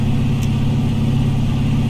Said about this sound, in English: You can turn the engine fan on. We'll do that now.